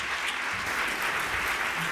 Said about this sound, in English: Please extend a warm round of applause for all our panelists